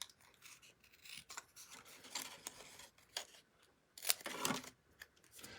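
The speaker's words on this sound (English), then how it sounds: "I'm going to just snip out Happy" Scissors snip out paper letters spelling a greeting for an Easter treat holder, a run of sharp, close cuts and rasping paper slices in uneven bursts, with one louder crisp cut near the end and no talking.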